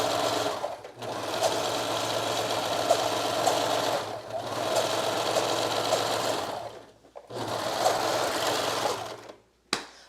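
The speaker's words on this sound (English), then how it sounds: "Go ahead and serge." A serger overlock machine stitches dress fabric in three long bursts of fast, steady mechanical whirring, close and loud, broken by short pauses and a brief click near the end, with no voices.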